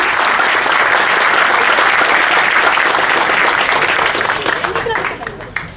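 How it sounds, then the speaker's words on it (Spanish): A large audience at a startup pitch event in Peru claps in loud, sustained applause for a panel, fading out over the last second. "Un gran aplauso para ellos."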